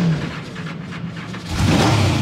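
A 9.7-litre drag racing engine rumbles at idle, then revs up louder toward the end, a deep throaty roar close by.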